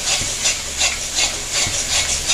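Onions, Kashmiri chili powder and spices sizzle and fry in a pan while being stirred, a steady hiss rising and falling in regular swells roughly every third of a second.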